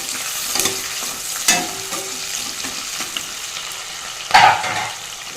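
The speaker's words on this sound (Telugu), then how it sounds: "ఇప్పుడు 2 ఎండుమిర్చి యాడ్ చేస్తూ ఉన్నాను. ఇంకా ఒకసారి మిక్స్ చేసుకుందాం." Two dried red chilies frying in hot oil in a pan while being stirred, a steady sizzle with a few scraping clinks of the spoon and one sharper clatter near the end, no talk.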